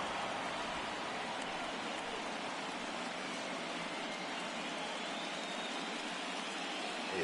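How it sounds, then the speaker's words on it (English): Steady rain falling during a World Series game between the Red Sox and Cubs in a baseball video game, a faint, even hiss that continues unbroken, with no voices over it. "It has rained pretty much from the get-go in this game"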